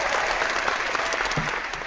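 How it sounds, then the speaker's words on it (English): An audience claps for Brother Jack Smack, a thick, lively patter of many hands, loud and close, easing slightly toward the end of a couple of seconds. "That's some applause for Brother Jack Smack."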